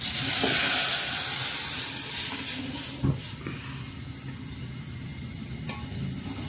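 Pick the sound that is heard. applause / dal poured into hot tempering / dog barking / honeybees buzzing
dal poured into hot tempering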